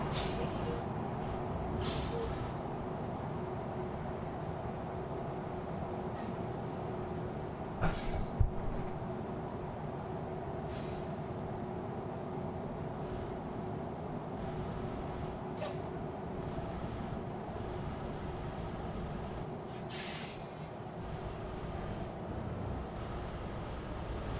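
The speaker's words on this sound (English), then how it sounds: "I shall now start braking." Truck air brakes in Euro Truck Simulator 2 come as sharp, short hissing bursts recurring every few seconds over a steady low engine and road drone, with one brief knock near the middle.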